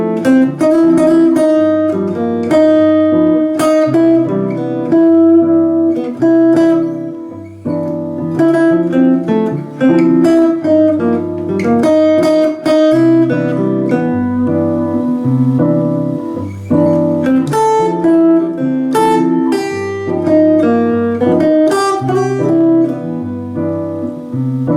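Guitar plays a busy phrase of plucked notes and chords over a low bass line, closing on a held minor chord, loud and without speech.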